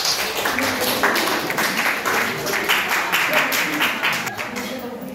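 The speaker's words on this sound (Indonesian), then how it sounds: "Tepuk tangan untuk mereka berdua." A room of people at a debate presentation claps steadily for several seconds, a dense patter of applause that fades slightly toward the end, with voices mixed in.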